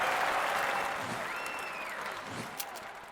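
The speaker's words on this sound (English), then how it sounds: "Cleared that one and earns a round of applause." Game crowd applause after a competitor from the United States clears a shooting target in a London 2012 Olympic video game, a steady broad clapping wash that gradually eases off over a few seconds.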